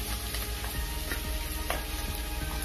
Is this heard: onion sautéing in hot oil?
yes